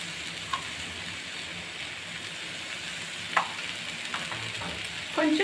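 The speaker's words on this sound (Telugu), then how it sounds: "ఇదంతా బాగా వేపుకోవాలండి ఇలాగంతా కలిపి." Chicken noodle ingredients stir-fried in a pan give a steady sizzle, with a few sharp scrapes and clinks of a spatula against the pan, close and unbroken, no voices.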